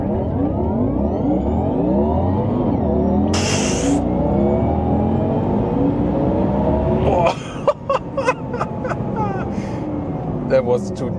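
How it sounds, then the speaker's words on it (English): A 2024 Porsche Taycan Turbo GT electric car doing a launch-control start, its motor whine climbing in steady rising sweeps from inside the cabin, then cutting off into quieter cabin noise with scattered knocks and clicks. "now Taycan Turbo GT, launch control, let's see how that one goes."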